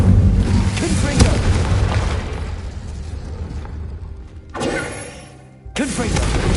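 Confringo blasting-spell explosions from the game Hogwarts Legacy boom loud and near, several bursts in a row with rumbling decay between them, set against continuous game noise.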